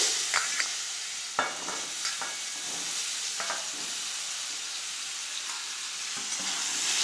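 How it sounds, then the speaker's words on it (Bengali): Potato pieces frying in hot oil in a kitchen pan, a steady moderate sizzle broken by a few sharp clinks and stirring scrapes, with no speech. "তেলের উপরে আলুগুলো দিয়ে দিচ্ছি"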